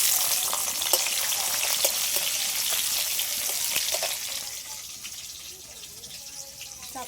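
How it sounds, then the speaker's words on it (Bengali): Onions fry in oil left over from frying potatoes, giving a loud, close, steady sizzle with crackling pops that slowly eases off over several seconds. "ওই তেলের মধ্যে এবার পেঁয়াজ দিয়ে দেবো"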